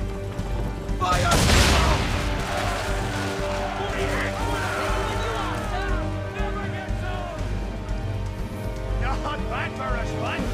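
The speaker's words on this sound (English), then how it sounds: "Now give the swivel guns a turn." Swivel guns firing at ships during a naval battle in Assassin's Creed III, with a loud burst of gunfire early on. Sustained battle noise and game music follow, with voices talking over it.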